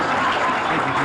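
Applause for a newly elected parish president, a dense, steady round of clapping from a crowd that fills the whole moment at close range.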